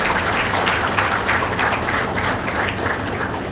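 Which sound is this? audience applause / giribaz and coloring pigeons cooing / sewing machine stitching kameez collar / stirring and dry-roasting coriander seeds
audience applause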